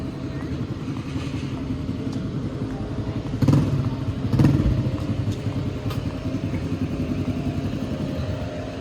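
Motorbikes ride past on a quiet street in Shkoder, Albania, their engines humming steadily with two louder nearby passes, set against constant street noise.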